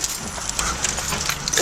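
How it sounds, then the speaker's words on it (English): Hailstones pelt a car in a hail storm, a dense, steady clatter of sharp impacts drumming on the body and glass at close range, with no voices breaking through. "It's hailing, dude."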